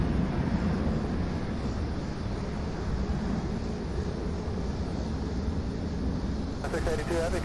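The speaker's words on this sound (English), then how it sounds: "The Boeing 767 getting ready to taxi there" A Boeing 767 preparing to taxi at Louisville's SDF airport produces a steady, broad jet-engine roar that holds unbroken from start to finish, with a muffled voice faintly beneath it.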